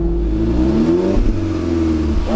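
A 240 hp car engine revs in a deep, throaty climb and settles, loud and close with rising and falling tone and a muffled stock sound, no talking over it.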